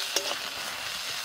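Ginger garlic paste frying in oil with browned onions, a soft brief sizzle close by with a small clink near the start, quiet and without voices.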